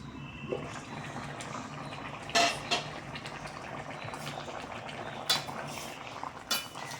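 Soft bubbling of dried fish curry simmering in a pot, with a few sharp clinks of metal utensils against the pot, close by and without speech.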